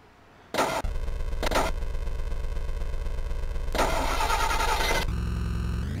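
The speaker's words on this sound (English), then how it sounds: "You gotta start the engine." Engine starting in a Midway arcade video game, a cranking burst followed by a loud, steady synthesized engine roar and idle with brief surges, all game audio without talking.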